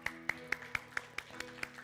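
A single pair of hands claps in a slow, even rhythm, about four claps a second, close and fairly quiet over a low steady hum. It is offered as applause for a teacher.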